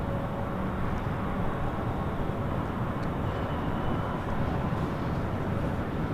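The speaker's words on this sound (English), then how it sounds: "was JetBlue Airways Flight 687 coming in from Boston in an A321" A JetBlue Airbus A321 airliner lands at LAX, a steady, moderately loud, broad jet roar that holds level throughout, with no voices.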